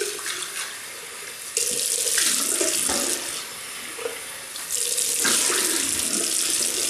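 Water runs from a tap while shaving soap is rinsed off, a steady close rush that changes in force several times as hands move through the stream.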